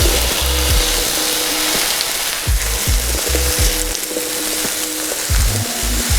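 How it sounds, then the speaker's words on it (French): Potato pieces sauté in a little oil on a hot plancha, a loud, dense, unbroken sizzle and crackle with recurring stirring scrapes and a low droning tone beneath. "on va commencer par mettre un petit peu d'huile et faire sauter les pommes de terre"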